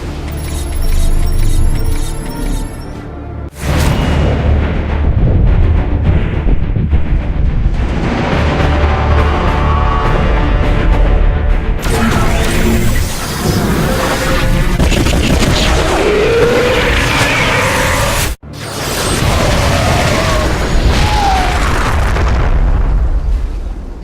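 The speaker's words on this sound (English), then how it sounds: "Prepare for orbital strike." A Protoss Spear of Adun orbital strike in StarCraft 2 delivers a long, loud barrage of booming explosions and crackling blasts, continuous for many seconds with brief gaps between waves of bombardment.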